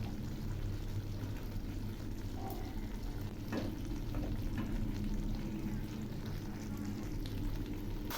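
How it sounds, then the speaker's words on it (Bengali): A Malabar spinach stir-fry with ghee, white cardamom and ground cinnamon sizzles in a pan while it is stirred. The hiss is dense and continuous, with a few soft scraping strokes, close by and without speech. "এবার আমি নেড়ে চেড়ে নামাবো।"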